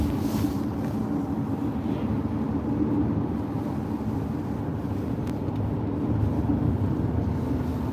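A 2008 Audi A6 with a 2.0 TFSI engine and six-speed gearbox pulls uphill. Its engine drones steadily from inside the cabin, with a low rumble and road and wind noise throughout, and there is no talk.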